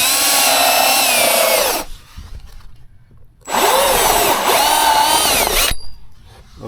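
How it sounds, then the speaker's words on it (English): A power drill whines loudly in two long bursts with a short pause between, close up, drilling a hole in a Peterbilt 389 truck, with faint handling noise. "we're gonna drill a first hole for our light right here"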